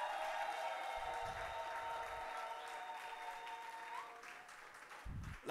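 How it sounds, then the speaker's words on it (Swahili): A church congregation at an overnight prayer vigil claps in sustained, dense applause that fills the room, fading slightly toward the end. "Hebu tumshangilie Bwana Yesu kwa makofi mengi."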